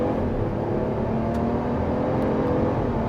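2025 Ram 1500 Laramie pickup accelerating hard from a standstill with no brake torque, a loud, steady engine roar building continuously over a few seconds, heard close from inside the cabin with no talking.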